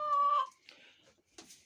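A hen in a chicken coop gives a sharp, loud cluck-squawk followed by softer, scattered clucks, close by and alone.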